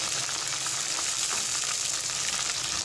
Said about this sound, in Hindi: प्याज को मैंने अच्छे से फ्राई कर लिया है